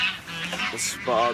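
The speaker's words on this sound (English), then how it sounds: "Bloody geese." Geese honk loudly nearby at a fishing syndicate lake, a few harsh calls mixed in with someone talking over them.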